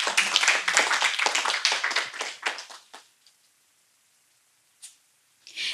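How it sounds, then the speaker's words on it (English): An audience at a women's poetry festival applauds a poet: dense, lively clapping for about three seconds that quickly thins and dies away into near silence, with a brief stray sound afterward. "Big round of applause for Rakhi."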